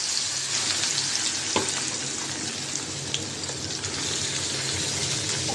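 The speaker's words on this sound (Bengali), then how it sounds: "তেলটা গরম হয়ে গেছে, মলা মাছটা দিয়ে দিলাম" Mola fish sizzle steadily in hot oil in a pan, a close, even crackling hiss with a few sharper pops, continuous throughout with no talking.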